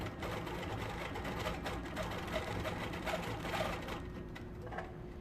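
An 18-inch throat quilting machine stitches a free-motion paisley design with a steady, even mechanical hum that runs unbroken from start to finish, fairly quiet and with no voices.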